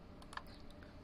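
A quick burst of typing on a computer keyboard: a few soft, close key clicks in the first half second, then a couple of lighter taps over a low, steady room hum.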